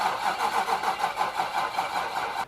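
A rebuilt Nissan VK56 engine in an Xterra cranks steadily in a loud, even rhythmic churn that runs the whole time without clearly catching.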